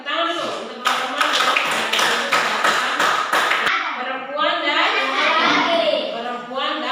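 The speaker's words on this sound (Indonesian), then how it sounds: "Tepuk tangan dulu untuk teman-teman" Schoolchildren in a classroom clapping for their classmates, a burst of brisk, loud, close applause lasting a few seconds, followed by children's voices and a teacher talking.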